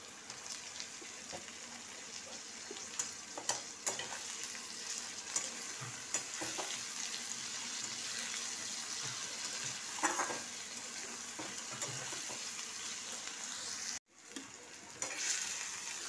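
Onions and tomatoes frying in hot spices in a pan, a continuous dense sizzle with scattered pops and occasional stirring scrapes, close and steady, briefly cutting out near the end before resuming.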